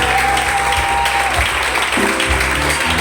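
A congregation in church clapping and cheering loudly in praise, a dense, continuous burst of applause with voices mixed in.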